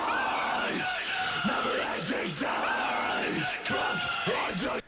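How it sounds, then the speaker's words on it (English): A background vocalist screams in a shrieky high pitch through a metal song, harsh and sustained under heavy distorted guitars and pounding drums. "anytime you hear that kind of shriekier, higher pitched vocal"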